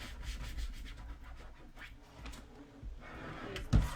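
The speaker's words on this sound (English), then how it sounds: "let's go ahead and burnish it really, really well" A plastic scraper rubs firmly over transfer tape laid on cut vinyl, giving a steady run of soft scratchy strokes, close and fairly quiet, ending with a brief louder knock.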